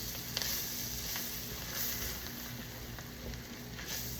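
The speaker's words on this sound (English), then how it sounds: "let's add us a couple of tablespoons of flour. I'm going to stir that around." Vegetables sizzle steadily in a pan as a couple of tablespoons of flour are stirred in, with faint, scattered scrapes and taps of the spoon under a soft, even hiss.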